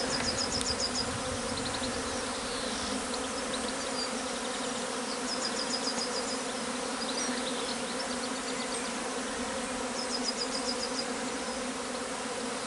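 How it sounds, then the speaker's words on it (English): A honeybee swarm pouring out of a hive makes a dense, continuous buzzing hum, steady and moderately loud, with a few brief higher buzzes over it. "One of our hives is just swarming out."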